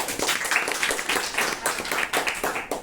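A classroom of students claps together for a classmate, dense overlapping hand claps filling the room at close range, steady and lively throughout with no talking.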